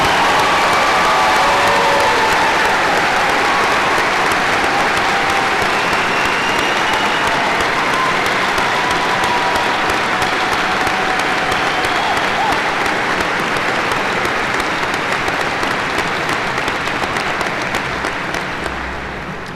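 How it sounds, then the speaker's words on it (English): Graduation audience applause for students being honored for upcoming service to their country, a large crowd clapping loudly and steadily for about twenty seconds with no talk, tapering slightly at the very end. "Please give these students a round of applause for their upcoming service to our country."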